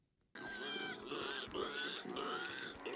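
A cow pig, a hybrid animal from Avatar: The Last Airbender, squeals and grunts loudly in several harsh, close bursts that start abruptly and run without pause to the end.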